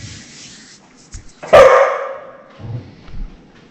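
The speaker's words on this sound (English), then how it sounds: "dog barking" A dog gives one loud, sharp bark indoors in a kitchen, with a few softer yips and whimpers around it.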